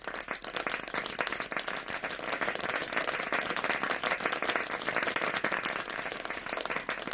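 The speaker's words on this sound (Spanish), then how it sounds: "muchísimas gracias y aplausos para Miguel." Sustained applause from an audience at an online event on exporting from Spain to Mexico, dense steady clapping throughout with no speech over it.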